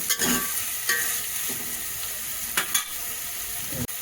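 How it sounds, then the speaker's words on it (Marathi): Onion frying in a pan for prawn rice, a steady loud sizzle with scraping stirs of a spoon against the pan at irregular intervals, heard close up with no talking. "मस्त भाजून घेऊया ना"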